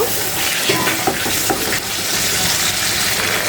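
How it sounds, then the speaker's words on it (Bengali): Roast chicken spice paste with peanuts frying in oil while being stirred: a dense, continuous loud sizzle with faint scraping stir strokes mixed in. "এই বাদামটা যতটা বেশি দেব রোস্টটা অতটা মজা হবে সুন্দর করে নেড়ে ছেড়ে একবারে কষিয়ে নেব"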